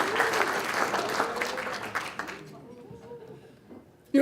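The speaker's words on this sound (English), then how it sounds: "Give our demonstrators a round of applause." Applause for demonstrators at an American Legion military ball, a crowd clapping loudly for about two seconds, then thinning to scattered claps and fading out, followed by a brief abrupt noise at the end.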